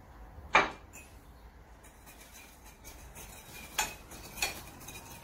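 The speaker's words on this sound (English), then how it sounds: "So I'm going to ask Zoria to help me beat in the egg." Eggs being beaten into a meat pie pastry mixture, a few sharp utensil clinks against a bowl with pauses between them and quiet room noise, close by, no talking.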